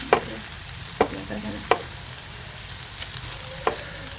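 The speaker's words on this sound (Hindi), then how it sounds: "दूसरी तरफ से भी इन्हें लाइट गोल्डन कलर आने तक फ्राई कर लेंगे" Dahi bara lentil dumplings fry in oil with a steady sizzle, broken by several sharp clicks and knocks from turning them. The frying is close and there is no talking.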